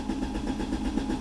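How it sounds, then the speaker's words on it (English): A Mercury car's engine cranks on the starter during a diagnostic test, giving a steady, continuous mid-pitched churning drone with a low rhythmic pulse, close and alone. "I'm gonna wear out my starter here."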